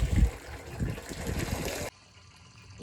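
Water is poured into a piglets' water barrel, a rough gushing splash for nearly two seconds that then stops abruptly, leaving quiet room tone.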